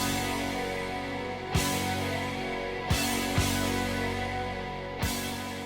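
Opening of a 1978 album, a full-band rock passage with sustained chords punctuated by several sharp accented hits, moderately quiet and without voices.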